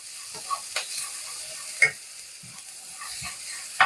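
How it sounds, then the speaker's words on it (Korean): Spicy anchovies and garlic sizzling in cooking oil in a pan, with a soft steady fry punctuated by a few scraping stirs and clinks of a utensil, close up and with no talk. "잘 볶이고 있죠?"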